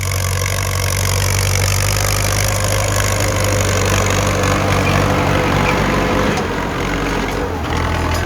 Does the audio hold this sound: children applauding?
no